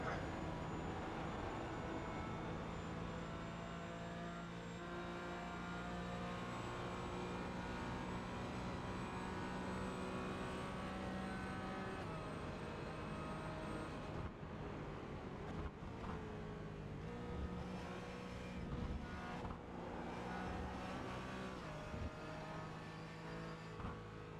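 Race cars, a Porsche slipstreaming behind an Audi, lap Watkins Glen in the iRacing video game. A continuous engine drone with rising pitch holds throughout, then shifts and revs through gear changes in the second half.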